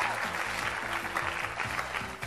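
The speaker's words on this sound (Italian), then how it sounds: "un bel applauso anche per te di incoraggiamento" An audience at a student festival quiz show claps in encouragement for a contestant. The applause is dense and continuous, with music tones running faintly underneath.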